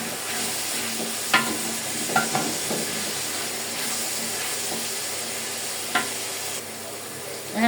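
Fried eggs being lightly stir-fried in a pan for chilli chicken fried rice, giving a steady low sizzle with a few sharp scrapes of a spatula scattered through it and no talking.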